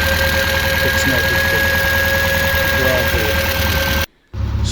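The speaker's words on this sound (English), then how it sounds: "It's idling at about 1100" Triumph Spitfire engine idles at about 1100 rpm, a loud, steady mechanical hum with a faint rhythmic knock, close by, cutting out briefly near the end before resuming.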